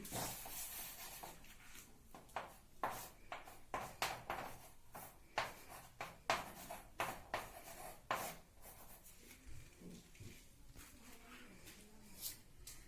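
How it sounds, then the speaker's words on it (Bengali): Handwriting on paper while working a physics error-analysis problem, a series of close, faint scratchy pen strokes in irregular bursts with short pauses between them. "আমি এটা ক্লিয়ার করে লিখছি।"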